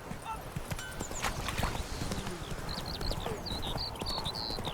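Horse hooves clip-clop at a quick gallop-like rhythm through The Witcher 3 game world, steady and close throughout, with bird-like whistles and a voice mixed in over the hoofbeats.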